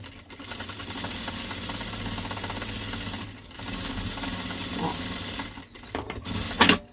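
Domestic sewing machine stitching a seam through layered fabric on a fish-shaped pot holder, a rapid close mechanical rattle with brief pauses, then a small clatter near the end.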